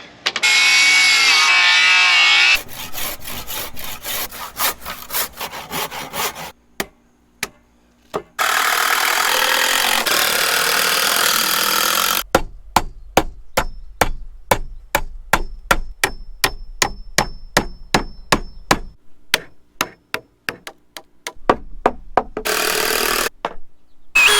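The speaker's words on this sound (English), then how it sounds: "why not use an impact wrench when you can" An impact wrench drives fasteners into deck framing outdoors, giving repeated loud bursts of rapid hammering and whirring, alternating with short quiet gaps and sharp knocks, with no voices.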